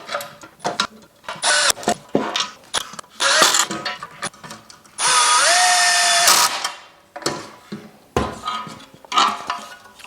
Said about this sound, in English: So we're going to go ahead and tighten the screws down that hold the feet on.